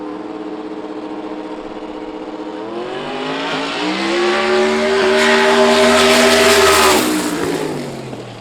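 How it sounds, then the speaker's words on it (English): A leaf-sprung drag racing car with a 481X engine and a front-mounted Vortec blower roars off the strip, its engine climbing loudly in pitch, peaking, then fading as it pulls away. "481X in that thing with a Vortec blower on the front of it."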